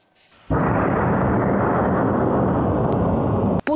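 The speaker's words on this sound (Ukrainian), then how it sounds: "Потужний вибух на подвір'ї п'ятиповерхівки в Ужгороді розбудив жителів району" After a moment of near quiet, a sudden powerful blast erupts in the courtyard of a five-storey apartment block in Uzhhorod, a loud, sustained roaring rumble continuing about three seconds before cutting off.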